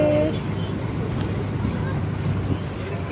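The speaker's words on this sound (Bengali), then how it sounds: "আমাদের লঞ্চ ছেড়ে দিয়েছে।" Passenger launch boat pulling away on a river, a steady low engine drone and rushing wind filling the whole stretch, with a voice speaking briefly at the start.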